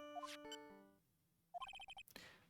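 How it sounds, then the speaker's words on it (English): Phone ringtone from the Phoenix Wright: Ace Attorney video game: two quick bursts of bright electronic melody, the second a rapid warbling run of repeated tones, followed by a short noisy blip, clear and alone. "Oops. Sorry, that's my phone."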